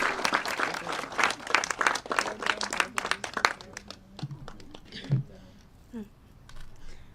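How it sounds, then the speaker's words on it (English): An audience claps at a Chicago mayoral announcement event on community schools, a dense burst of applause that thins into scattered claps and fades out, with a few voices in between. "Give her a round of applause."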